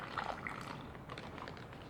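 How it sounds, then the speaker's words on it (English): Water poured into an Omeals self-heating meal bag, a quiet, close trickle and gurgle of liquid filling the pouch, faint and steady for a couple of seconds. "So we're going to pour the water in."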